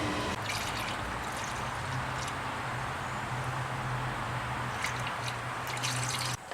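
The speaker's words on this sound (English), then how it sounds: "Next thing I'm going to do is I'm going to refill it with coolant." Coolant pours in a steady trickling stream into the engine of a 2000 Chrysler 300M, splashing and gurgling continuously at close range, with a few faint clinks near the end.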